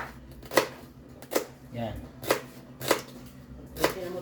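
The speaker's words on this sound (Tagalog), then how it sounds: "So hiwain na natin yung celery. Yan, ganito lang kalaki hiwain yung celery." Knife chopping celery on a cutting board, five sharp evenly spaced cuts about a second apart, close and crisp, with a short spoken word between them.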